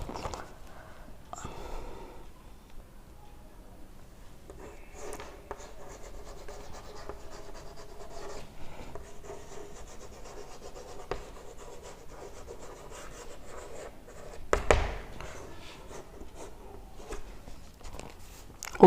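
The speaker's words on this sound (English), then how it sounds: "So I am writing for example." A teacher writes on a board during an English grammar lesson, a steady run of soft scratchy strokes close by with a few louder taps, with no speech over it.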